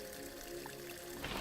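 Fresh spring water flows from the earth in a faint, steady wash that swells slightly near the end.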